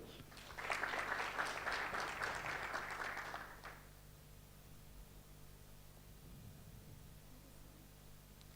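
A short round of audience clapping at a live-streamed awards event at the Dubai World Trade Center, steady for roughly three seconds before dying away into a quiet hall.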